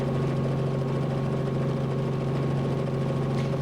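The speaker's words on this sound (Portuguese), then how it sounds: "Cristiana Gomes sobrevoa o centro da cidade a bordo do helicóptero da Rede Record." A news helicopter flies over Niterói, its rotor and engine producing a steady, loud, low drone that stays constant with no speech.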